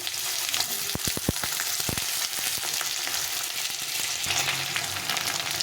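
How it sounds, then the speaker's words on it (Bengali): Potatoes fry in hot oil with a steady, close sizzle, and a few sharp taps of a utensil on the pan near the start. The potatoes are being cooked for a pointed gourd (potol) dish. "তেলটা গরম হয়ে গেছে। আলুগুলোকে প্রথমে ভেজে নিয়ে তারপরে লাল লাল করে ভেজে নেব।"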